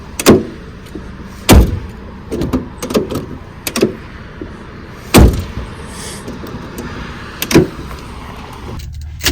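Rear door of a Ford Crown Victoria is opened and slammed repeatedly, giving several loud solid thuds with latch clicks and rustling between them, close up and without talk.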